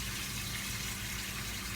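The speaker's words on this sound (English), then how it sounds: "I'm gonna probably add an extra cup of water" Water steadily pouring into a crockpot of beef stew, a continuous close gushing stream with no talk over it.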